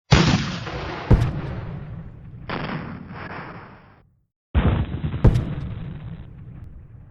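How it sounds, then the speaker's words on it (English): Civil War artillery fire at Malvern Hill in 1862: a loud cannon blast opens, then a second boom after a pause, each with rumbling rolling echo trailing off, no voices. "The Union artillery fires into the brigade."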